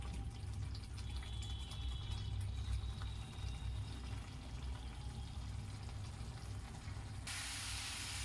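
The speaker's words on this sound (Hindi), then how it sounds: "दोस्तों गैस को हाई फ्लेम पर कर दी थी। अब इसे मैं भून रही हूँ।" Potato and pea curry, made without onion or garlic, frying in a pan over a high gas flame: a steady, moderate sizzle and hiss that runs throughout, with no talking.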